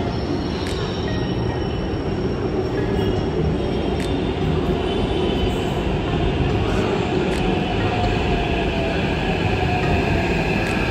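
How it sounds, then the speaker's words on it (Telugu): Inside a moving Hyderabad metro train, a loud, continuous rumble of the carriage and wheels holds steady throughout, with occasional faint high squeals on top. "సో ఇప్పుడే మెట్రో లోపలికి అయితే వచ్చేసిన"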